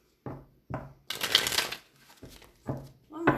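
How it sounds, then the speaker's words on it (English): Tarot cards are shuffled in several quick bursts, close and crisp, each flurry separated by short pauses, with one longer riffle in the middle. "One more shuffle."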